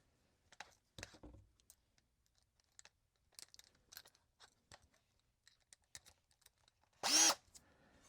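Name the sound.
power drill with 1/8 inch bit drilling headlight holes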